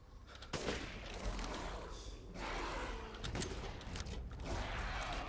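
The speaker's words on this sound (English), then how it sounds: "I'm going to use my sniper for this part." Sniper rifle shots ring out during a Resident Evil Village gameplay fight, sharp blasts spaced a second or two apart over a dense, rumbling game soundscape with no talk.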